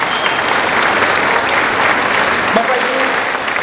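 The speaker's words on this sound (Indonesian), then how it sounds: "Tepuk tangan buat orang Batak." An audience applauds steadily and loudly in a hall at a Batak community association declaration and inauguration in Batam, a dense continuous wash of clapping with a brief voice near the end.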